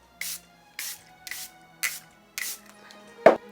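A powder melt setting spray bottle fires five short, evenly spaced hissing sprays in quick succession, close and crisp, followed by a sharp tap or click.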